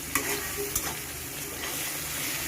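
Turmeric powder, salt and spices sizzle steadily in a hot pan as they are stirred and fried, with a couple of sharp scraping knocks early on and no talking.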